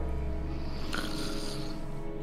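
A character in Jurassic Park: The Game snores heavily, a labored, rattling breath that rasps continuously with a sharper snort midway, loud and close with no talk.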